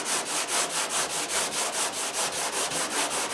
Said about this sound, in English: We're going to sand up to the tape.